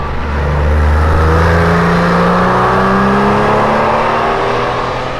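A Porsche 996 six-cylinder engine runs smoothly and steadily up close, with a sustained even hum that swells slightly and then settles.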